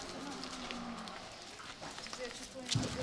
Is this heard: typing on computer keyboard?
no